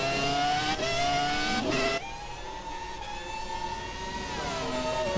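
Classic race cars in the PSF1 racing game drone with a steady high engine whine that rises and shifts pitch through gear changes, loud and continuous with no talking.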